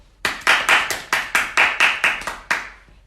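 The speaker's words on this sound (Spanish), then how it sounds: "Un aplauso." Sharp hand claps ring out about ten times in a steady, even rhythm, close and crisp with brief pauses between them and no voices over them.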